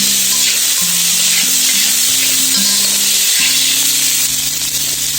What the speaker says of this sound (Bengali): দিয়ে দিচ্ছি টেস্টিং সল্ট কিছুটা ভালোভাবে মিশিয়ে নেব